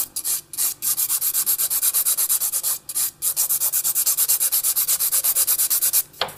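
A file rasps back and forth on an acrylic nail in a mint and ginger manicure, quick even strokes repeating steadily with brief pauses, close and fairly loud with no talk.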